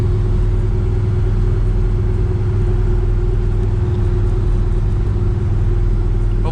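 A 1966 Chevy Nova with a 327 engine cruising on the road, heard from inside as a constant low engine rumble and drone with steady road noise, no one speaking.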